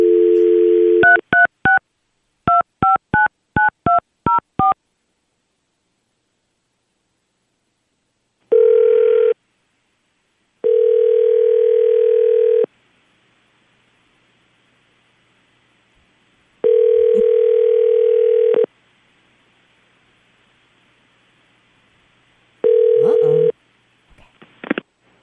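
A telephone call being placed: a rapid run of touch-tone dialing beeps followed by several long steady ringback tones separated by silences, then a faint click at the end.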